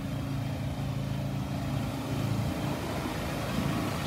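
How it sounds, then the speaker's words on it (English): A steady, loud mechanical roar of a pressure washer cleaning on a street in Naples, Florida, runs without a break, a constant engine-like drone with hissing spray over it. "They're doing some pressure cleaning here"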